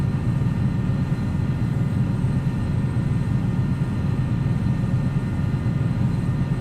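Steady, dense jet roar of a Challenger 300 business jet in the X-Plane flight simulator, a constant low rumble with a faint high whine holding level throughout, no voices.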